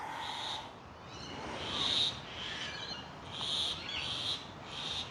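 Indian mynas call repeatedly in bursts of bright, chattering notes over a steady background hiss of insects, somewhat distant, with no talking.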